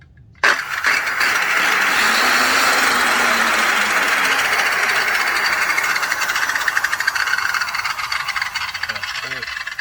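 A circular saw with a freshly replaced blade, rated around 7,000 RPM, spins up and runs idle with a loud, steady whine from start to finish, no cutting load, with a voice talking faintly over it.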